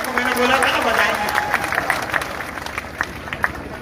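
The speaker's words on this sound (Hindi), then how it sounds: "ताली बजाओ मोदी के लिए" Audience at an outdoor political development rally clapping, applause swelling early, then thinning into scattered individual claps with crowd murmur and voices underneath.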